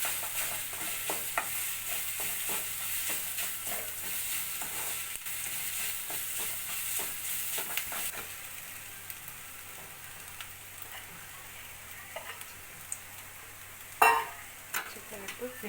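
Masala paste with chili powder and turmeric stirred in a hot pan for a chicken dish, giving a continuous sizzle with soft scraping strokes and one louder clatter near the end, fairly quiet and close.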